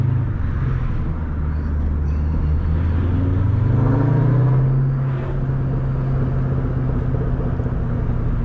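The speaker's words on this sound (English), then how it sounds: "Love them damn downshifts" A 500 hp Ford Mustang Cobra Terminator driving at dusk, with a loud, steady low engine rumble inside the car and the pitch rising and falling briefly as it downshifts, and no talking.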